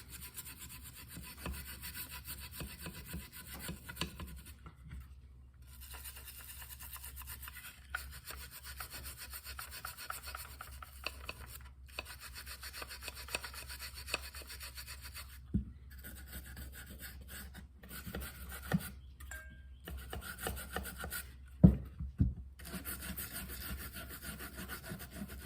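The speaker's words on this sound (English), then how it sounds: "So we're going to try to scrub that out as best we can" Scrubbing at a freshly glued acoustic guitar joint with denatured alcohol gives a steady rasping rub with repeated back-and-forth strokes and brief pauses, close and moderately loud, with no voices.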